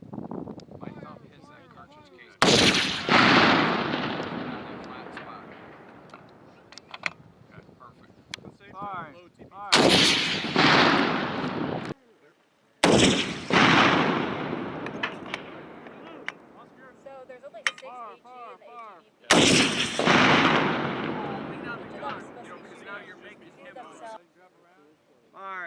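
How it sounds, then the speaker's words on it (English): A new shoulder-launched rocket system fires four times in sequence outdoors, each launch a sharp loud blast trailing into a long decaying roar, with wind noise between shots. "This new rocket system shoots farther than any of our current shoulder-launched rocket systems, Adsit said."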